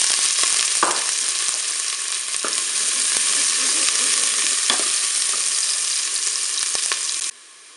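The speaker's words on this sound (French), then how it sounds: "l'huile est chaude. Je vais pouvoir, eh bien, mettre mes oignons dans la cuve." Onions dropped into hot oil in a Cookeo pot hiss loudly and continuously up close, with a few clicks of stirring, before the sizzle cuts off abruptly near the end.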